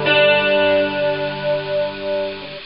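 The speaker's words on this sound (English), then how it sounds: "for the clean sound, I'm going to kick in the Small Clone," Electric guitar on a clean tone through a Small Clone chorus pedal set to a light chorus, a sustained chord shimmering and slowly fading, alone and close.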